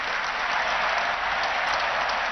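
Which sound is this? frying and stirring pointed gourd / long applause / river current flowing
long applause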